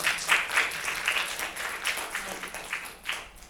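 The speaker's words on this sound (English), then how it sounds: "give yourself a round of applause." Audience applause after an art thesis panel discussion on abstraction and empathy, a small group clapping with scattered uneven claps that rise and fall for several seconds at moderate distance.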